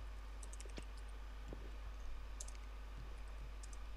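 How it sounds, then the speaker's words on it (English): Computer keyboard typing during a Minecraft PVP match: faint, sparse clicks and taps scattered across a quiet background, some in quick little clusters. "Just typing."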